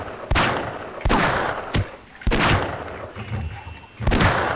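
Gunfire in the video game Half-Life Episode One: four or five loud, sharp broadband shots at irregular intervals, each with a short ringing tail, and faint game ambience between them.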